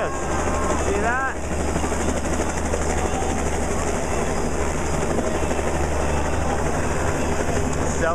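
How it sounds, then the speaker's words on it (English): A helicopter passes overhead during a Sikh festival parade in Yuba City, California, giving a steady, continuous rotor drone with a brief whine early on, loud and unbroken throughout. "there's a helicopter up here that throws down a bunch of flowers"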